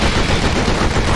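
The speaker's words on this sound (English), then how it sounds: "when he shoots at me, I'm supposed to go shoot at him" Gunfire in the 2003 Shiny Entertainment game Enter the Matrix, a loud, dense, continuous burst of rapid shots filling the whole moment.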